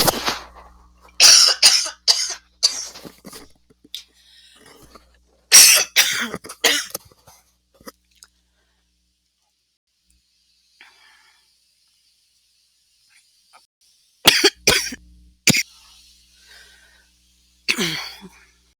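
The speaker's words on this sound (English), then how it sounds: "I had a coughing fit" A fit of harsh, close coughing in bursts, a long quiet stretch, then more coughs near the end.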